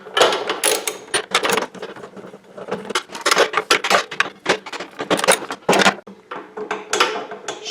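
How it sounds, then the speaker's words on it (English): Bolts being loosened on the drive assembly housing of a snowblower, with bursts of clicking ratchet strokes and metallic clatter in an irregular rhythm, close and fairly loud, with no talking. "There's just 2 bolts to take off of this housing, or shroud, and hopefully we can get into that."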